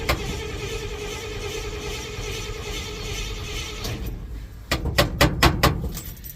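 A 1960s Dodge truck with bullet holes and cracks idles steadily at close range, a rough low engine drone, then a burst of loud sharp mechanical knocks and clatters near the end.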